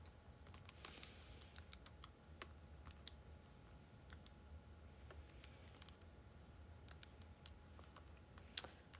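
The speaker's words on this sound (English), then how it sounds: "typing this into our calculator" Calculator keys pressed during an AP Calculus problem, quiet scattered clicks and taps at irregular intervals over a faint room hum, with no voices.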